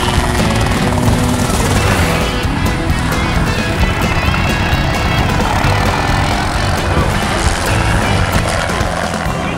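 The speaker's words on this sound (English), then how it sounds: "Now that's some helicopter flying." A helicopter thunders close by during a deer capture in South Texas, its dense rotor chop and engine roar loud and constant for the whole stretch.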